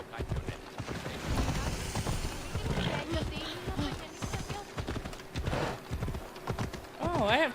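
Rhythmic clip-clop of horse hooves plods along slowly and steadily in Assassin's Creed Odyssey, mixed with game sounds and occasional animal growls, while a person talks over it.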